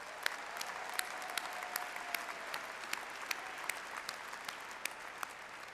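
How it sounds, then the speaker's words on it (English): Commencement audience at a university fall graduation ceremony applauding together, a steady wash of clapping from a large crowd held at an even level throughout, with no speech over it. "Let's give them a round of applause,"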